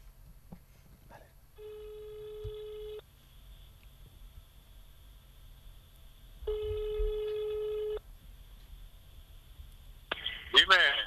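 A mobile phone on speakerphone rings out during a call, two long electronic ring tones separated by a quiet gap, ending with a brief burst of voice.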